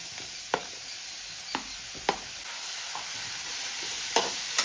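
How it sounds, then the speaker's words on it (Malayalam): Onions and green chillies sizzle steadily in a pan for an onion theeyal, punctuated by several sharp scrapes and taps of a spoon stirring at irregular intervals. "ഉള്ളിയും പച്ചമുളകും കൂടെ ആദ്യം വഴറ്റിയെടുക്കാം"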